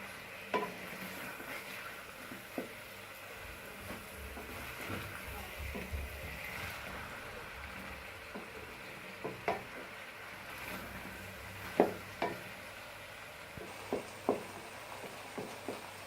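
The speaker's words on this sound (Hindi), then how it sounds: "इसको 15 से 20 मिनट इस मसाले में भूनने दें।" Potato and cauliflower cooking in masala in a pan for aloo gobi, with a faint steady sizzle broken by scattered sharp clicks and scrapes of stirring, heard at close range.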